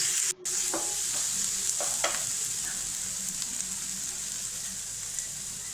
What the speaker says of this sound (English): Now add 1 finely chopped tomato. Fry it for 2 minutes.